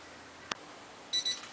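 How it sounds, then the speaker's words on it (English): Cooking timer going off during a brisket cook, a short click followed by a brief pair of shrill electronic beeps, close and clear over quiet background. "y'all hear that? The timer's going off."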